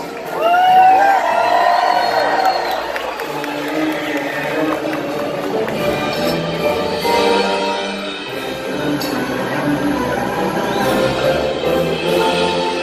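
Audience at a Medieval Times horse show in Buena Park, California cheers and whoops loudly and continuously, with children's shouts rising above the crowd noise and scattered voices mixed in.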